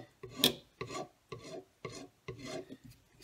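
Excess repair filler is sanded off a cracked steering wheel in six rhythmic back-and-forth rasping strokes, each a short scratchy burst with brief pauses between, close and fairly quiet.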